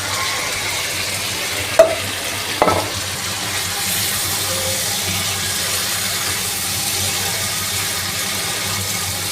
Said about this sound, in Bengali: মশলাটা কষানো হয়ে গেছে, এখন মাছগুলো আমি দিয়ে দিব।